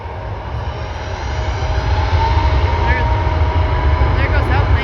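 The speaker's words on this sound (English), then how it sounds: "There goes that plane." A Flair Air Boeing 737 MAX 8 roars past at Vancouver International Airport, a loud, steady jet engine rumble that swells as it goes by, with voices talking under it.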